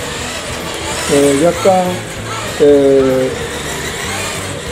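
A radio-controlled Ultima model car whines with rising pitch as the throttle is raised, its motor surging in a couple of short bursts over a steady background hum, while someone talks over it.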